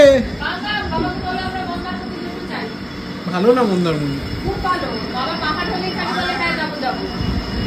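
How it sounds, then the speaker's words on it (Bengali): A train draws near with rumbling and a squealing, rising tone from the wheels, while adults and a child keep chatting over it close by. "ওই দেখো ট্রেন আসছে"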